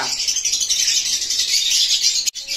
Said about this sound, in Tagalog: Palabasin muna natin itong mga ibon.